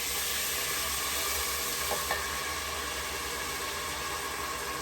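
Pomegranate-infused red wine hits a hot pot of pot roast, giving a loud steady sizzle that holds throughout, with a couple of faint clinks near the middle and no talk.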